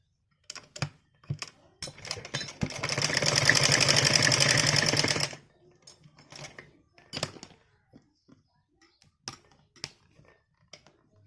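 A sewing machine stitches fabric pieces in one continuous rapid run of about three seconds, framed by scattered clicks and handling taps of the cloth and machine at close range.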